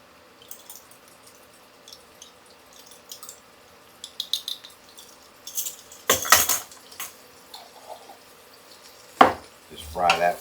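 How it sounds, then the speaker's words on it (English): Minced garlic going into a pan of softened onions for loaded baked potato soup, heard as a few sharp utensil scrapes and clinks against the pan amid quiet kitchen background, with louder stirring knocks near the end. "I'm going to put about 4 cloves of minced garlic"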